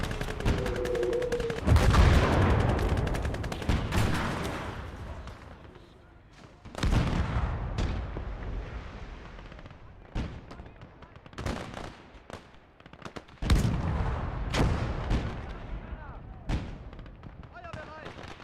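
Artillery and gunfire in a WW2 real-time strategy game, with repeated sharp loud blasts spread irregularly through the stretch over rumbling battle noise, and voices heard at points.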